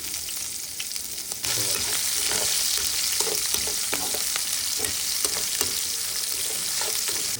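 Green chillies dropped into hot oil with spluttering mustard seeds and dried red chillies, a sudden jump to loud continuous frying sizzle with scattered crackles and pops, close up and without speech.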